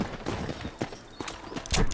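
Hooves of a horse named Black Betsy clip-clop in a video game, a run of short, fairly close steps with a louder burst of hoofbeats near the end.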